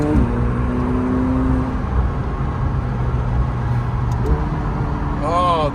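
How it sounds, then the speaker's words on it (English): A McLaren 720S engine, heard from inside the car, holds a steady drone and then blips through quick rising and falling revs on a downshift, while people talk over it. "Oh, that downshift."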